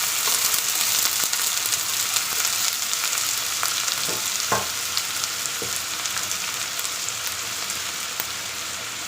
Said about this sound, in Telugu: 3 ఆనియన్స్ వేస్తున్నాను.